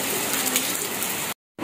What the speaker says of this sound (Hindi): ये देख सकते हैं माशाल्लाह बहुत ही अच्छी प्यारी और तेज़ बारिश